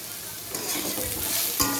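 Steady sizzling of bottle gourd frying in a pan, with a scraping stir partway through, close and fairly loud with no talking.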